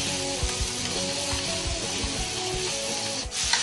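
Stir-fried ramen noodles and ingredients sizzle steadily in a very hot sauté pan, a dense close frying hiss with soft scraping and stirring knocks throughout.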